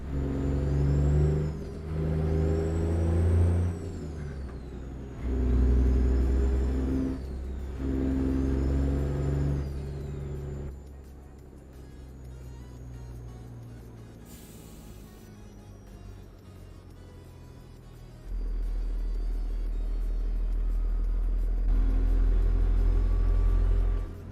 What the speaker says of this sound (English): if you run a different horsepower engines, they all sound the same with this mod